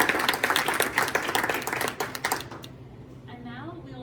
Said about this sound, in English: So we can just give them a round of applause.